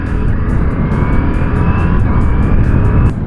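Ducati Multistrada V4S 2022 engine under load while riding, using the quick shifter up and down; a loud continuous engine roar with wind rush and slight pitch changes between gears.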